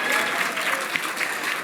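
An audience at a Chicago philanthropy gathering on healing and solidarity breaks into applause, giving a dense, steady patter of clapping with faint voices mixed in.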